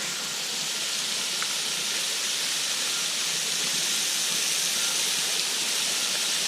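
Water from the Turche waterfall jets and sprays close by, a steady, loud rushing hiss that never lets up, with no voices.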